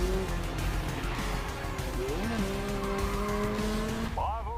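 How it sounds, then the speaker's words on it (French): A race car in the video game GRID Legends braking hard toward the finish line, with engine whine dropping in pitch and tyres squealing over steady game noise, ending in a short burst of rising and falling tones. "On va faire un beau freinage."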